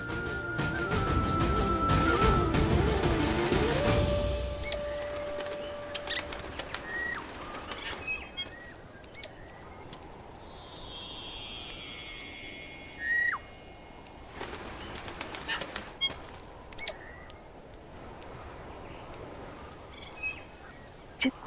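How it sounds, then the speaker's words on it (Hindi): Bright, melodious calls of a migratory bird, used as a sound effect in a Ramayan TV drama, chirp in scattered short phrases over a faint background after a louder opening passage of music. "ये तो कोई प्रवासी पक्षी है"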